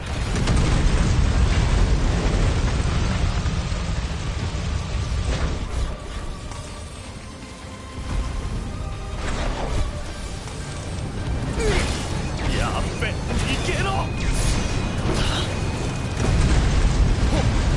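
Explosions and bursting blasts in the action game Final Fantasy XV, a dense run of loud booms and crashes with scattered sharp pops, mixed with game noise and occasional voices.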